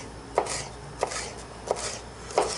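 Knife slicing red pepper into thin slices on a board, four crisp separate chops spaced roughly evenly, fairly faint and close with no talk.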